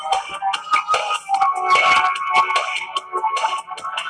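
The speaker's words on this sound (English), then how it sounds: "I'm sorry, my notifications are like crazy." Short electronic notification chimes from a phone go off repeatedly in quick succession, several tonal blips overlapping, close and fairly loud with no voice.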